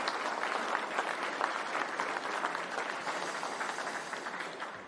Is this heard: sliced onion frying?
no